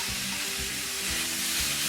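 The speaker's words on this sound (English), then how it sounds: "Once your onions have softened for about 5 minutes, then you're ready to add the meat." Raw pork hits softened onions in a hot casserole pan and fries with a close, steady sizzle, broken by a few soft stirring thumps.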